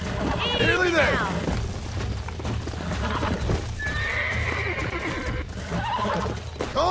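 A horse in the video game Red Dead Redemption neighs loudly at the start and again near the end, with clip-clopping hooves, in-game effects and a voice speaking over the action.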